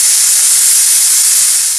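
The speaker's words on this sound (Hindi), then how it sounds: "कुकर का ढक्कन लगा के हाई फ्लेम पे हमें इसमें 1 सीटी लगानी है।" A pressure cooker whistles while cooking toovar dal pulao over a high flame, releasing a loud, steady, hissing jet of steam that fills the whole moment without pause.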